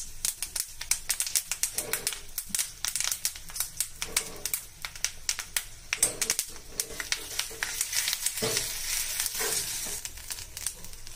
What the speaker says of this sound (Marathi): आता इडल्या टाकून झाल्यावरती असं एकत्र करून घ्यायचंय.